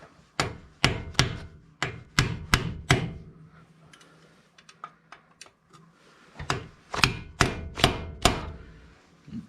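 Sharp metallic hammer blows strike a chisel to bend a brake lock flap on a 1974 MG Midget rear brake, coming in a quick series of five, then light taps, then another burst of six close strikes.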